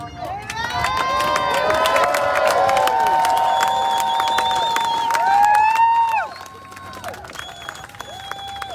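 Crowd at a Chicago Memorial Day rally cheering loudly, with whoops, shouted voices and applause in a dense, sustained roar that drops off sharply near the end into scattered lingering noise.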